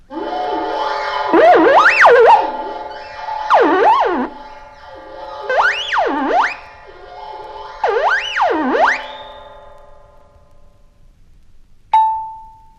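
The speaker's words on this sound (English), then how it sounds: "The glissando sounds like this." An ondes Martenot glissando: a wavering electronic tone slides smoothly up and down in sweeping swoops, several phrases in a row, ending with a short ringing tone.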